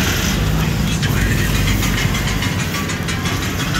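A motorcycle engine runs close by, loud and continuous with a rough, steady rumble and no clear change in pace.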